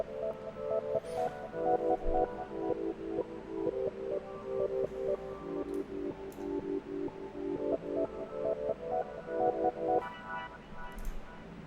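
A steady, rhythmic electronic beat made in Studio One with a slow, dragging halftime groove and rapid repeating synth arpeggios layered over a low pulse, playing alone.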